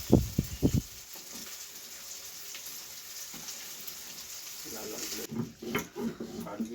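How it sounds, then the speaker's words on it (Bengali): Onions fry in oil in a pan for a pointed gourd and prawn dish, a soft, continuous sizzle with stirring, and brief bursts of talking at the start and end. "পেঁয়াজ ওগুলো সব লাল লাল করে ভেজে নেওয়া হয়েছে।"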